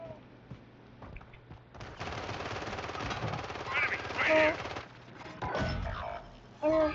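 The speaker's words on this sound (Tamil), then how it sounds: "எல்லாரும் ரீலோட் பண்ணி அடிச்சிட்டு இருக்கான்." Bursts of automatic gunfire from the video game Call of Duty Warzone 3 rattle in fast, dense volleys of several seconds, fairly faint in the mix, with a voice talking briefly between shots.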